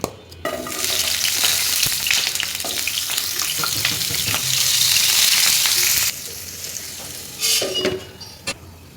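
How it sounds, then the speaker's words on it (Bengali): Potatoes frying in hot oil in a pan, a loud close crackling sizzle with scraping stirs, easing down near the end to quieter sizzling with a few bursts of stirring. "এখন আলুগুলো ভেজে নেব, তার জন্য তেল দিয়ে দিচ্ছি,"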